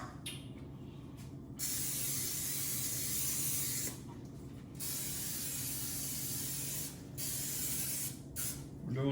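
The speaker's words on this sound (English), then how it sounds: "all I'm gonna do is spray some Pam in them." Long hissing bursts of Pam cooking spray into skillets for homemade buttermilk biscuits, three sustained sprays with brief gaps between, close and loud over a low background rumble.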